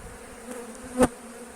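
Bees buzz in a steady, close drone around a hive frame being shaken, with one brief louder burst of activity near the middle.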